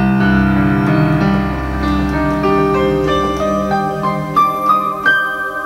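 A keyboard plays the closing pattern of a piece, starting from a low C: a slow run of clear, separate notes climbing in pitch, with a sustained low tone fading partway through and no voices.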